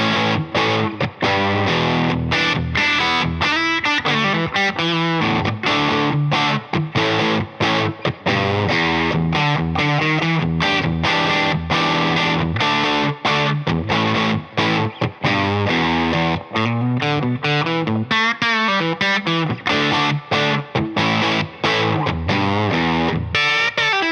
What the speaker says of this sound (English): If you plug in a humbucker guitar, you will get that creamy, warm, mid-range heavy sound